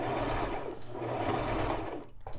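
A Brother LX3817 sewing machine runs a knit blind hem stitch in a continuous close whirring hum with a rhythmic mechanical chatter, slowing and stuttering briefly near the end, no talk.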